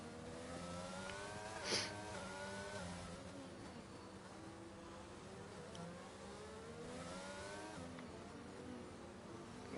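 A racing car's engine whines on a flying lap around the Monaco street circuit in a racing game, its pitch sweeping up and down through gear changes, faint and steady with no talk over it.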